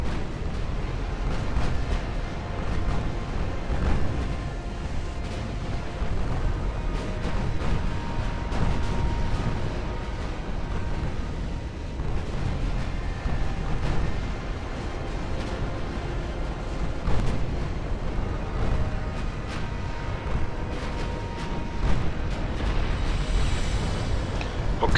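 Naval gunfire in Ultimate Admiral Dreadnoughts, a steady rumbling battle with repeated booming shots and explosions scattered throughout, dense and continuous with no clear pauses.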